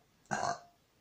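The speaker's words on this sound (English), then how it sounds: "I'm about to burp, so give me a moment." A single short burp, fairly close and moderately loud, standing alone in a quiet room.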